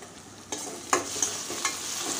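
Tomato and green chilies fry in a pan for a Maharashtrian veg thali, with soft steady sizzling and a few sharp stirring clacks of a spoon against the pan, fairly quiet and close.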